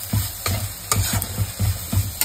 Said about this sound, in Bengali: মশলাটা ভালো করে ফ্রাই করতে হবে